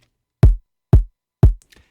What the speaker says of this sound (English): the kick drum goes on every beat